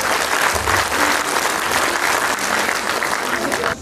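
Audience applause for an orchestra at an event in Călinești, sustained loud crowd clapping throughout, tapering slightly at the very end.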